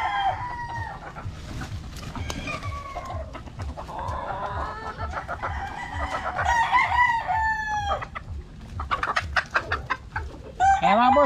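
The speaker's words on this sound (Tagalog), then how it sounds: "papakita ko sa inyo yung mga pulit" Pullet hens cluck continuously on a poultry farm, with a rooster crowing amid the busy flock and a steady low rhythmic mechanical hum underneath.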